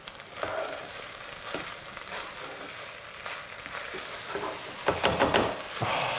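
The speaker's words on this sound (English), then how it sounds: "Now we will be adding some coriander. And then stir it gently." Coriander being gently stirred into a dish frying in a pan, with a soft ongoing sizzle and irregular scraping stir strokes that grow busier toward the end, no talking.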